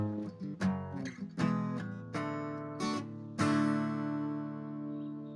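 Acoustic guitar strumming the chord pattern of a song, a series of bright rhythmic strums with rich harmonics, close and clear, ending on a ringing chord that fades out, with no talking.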